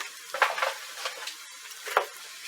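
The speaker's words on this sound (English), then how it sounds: "We got the frog legs popping" Frog legs fry in a pan, giving soft intermittent sizzles and pops with a few stirring scrapes, quiet and close with no talk.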